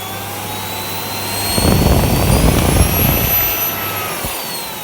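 A Miele vacuum cleaner with a partly failing motor and a blocked, weak-suction intake runs with a steady high whine, swelling briefly into a louder rushing roar midway before settling back.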